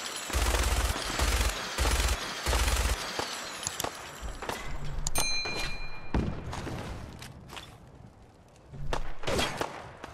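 Gunfire in Fallout 4, with several heavy rhythmic bursts early on, then scattered shots and impacts, and another loud burst near the end. Mostly without speech.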